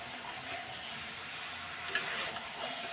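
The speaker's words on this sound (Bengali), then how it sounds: "এইদিকে দেখো কষানো হচ্ছে, আরও কষবে।" Young jackfruit curry stir-frying in a pan, a faint steady sizzle with light stirring scrapes and one brief clatter near the middle.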